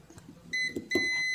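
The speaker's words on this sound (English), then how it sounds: "meter I put in ohms and buzzer range" Digital multimeter set to the ohms and continuity buzzer range while testing a microwave oven capacitor, two short high-pitched electronic beeps close by.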